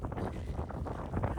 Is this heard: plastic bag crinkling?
no